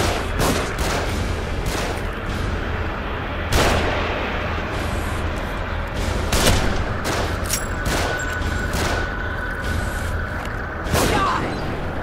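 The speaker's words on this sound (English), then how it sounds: "They're shooting from above." Repeated gunfire and heavy booming shots from above in The Evil Within, a dense, irregular barrage of loud cracks and blasts with several sharp peaks.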